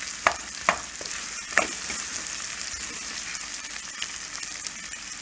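Red onion sautés in oil for egg biryani, a continuous close sizzle with a few sharp clicks and taps of a spoon stirring at the start, with no voices.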